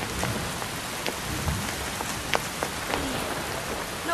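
Steady rain falling outdoors, a dense even hiss with scattered distinct drops tapping nearby, continuous throughout with no voices.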